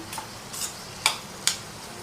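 Bottle gourd curry being stirred in a pan, with a few soft scraping strokes and two sharper clinks of the spoon against the pan, close and fairly quiet, with no talking.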